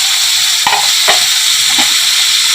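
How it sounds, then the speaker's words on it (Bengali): Ginger, garlic, onion and chilli paste fries hard with onions in hot oil, a loud steady sizzle filling the background while a spatula scrapes and stirs through it in a few sharp strokes, close up. "দিয়ে ভালো করে নাড়াচাড়া করে মশলাটা কষিয়ে নেবো"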